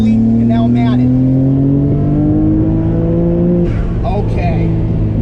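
A Nissan GT-R pulls hard through third gear, its engine note climbing steadily and loud up close before a sharp drop as the throttle lifts, with a voice speaking over the run.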